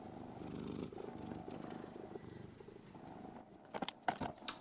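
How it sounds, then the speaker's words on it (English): A cat purrs close by in a low, steady rumble that runs continuously, with a few sharper rustling or crinkling noises breaking in near the end. "Cat."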